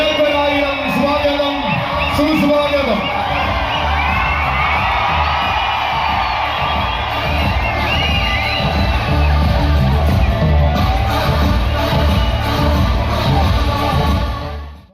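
A dense festival crowd at a Kerala temple pooram in Kottayam whoops and cheers as caparisoned elephants pass through the temple gateway. The roar is loud and continuous, with shouts rising over it throughout.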